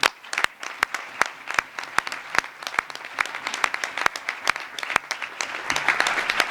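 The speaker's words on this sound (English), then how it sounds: "let's give to this platform a big round of applause" An audience at an IGAD regional refugee response event applauds, with sharp, distinct claps at a regular beat that thicken into denser clapping toward the end, fairly close and without talk.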